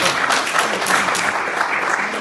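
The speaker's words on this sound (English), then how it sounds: "Congratulations and applause." Audience applause at a book tour event in Budapest, a short burst of dense, continuous clapping from a crowd that fills the whole moment at a steady level.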